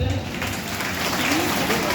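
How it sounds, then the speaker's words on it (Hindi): A crowd claps steadily for a couple of seconds, a dense wash of applause. "ताली बजाइए।"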